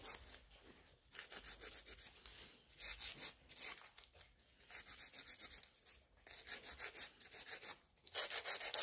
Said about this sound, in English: So I'm filing the sides.